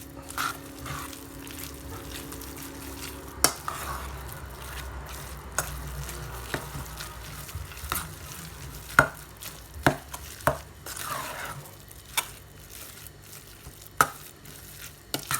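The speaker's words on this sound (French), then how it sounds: "Et on va mélanger le tout." Surimi and mascarpone filling with a pinch of paprika being mixed in a bowl, a spoon scraping and knocking against the sides in irregular clicks and taps, close and moderately quiet, with no talking.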